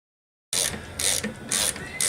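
A breaker bar works a nut loose on the carrier bearing of a 2002 Ford F-250, making close, repeated ratcheting clicks in about three bursts that follow a moment of silence.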